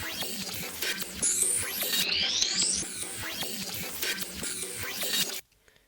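A sample heavily mangled with Shaper Box effects in FL Studio for an Early Life Crisis–style Nettspend beat, full of gritty, scratchy texture and rising pitched sweeps, playing steadily for about five seconds before cutting off abruptly into silence.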